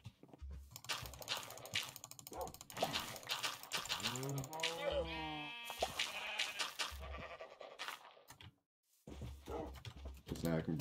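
Sheep bleating in Minecraft on a game farm, a couple of wavering bleats rising over clicking game sounds and background music, with a person talking over the scene.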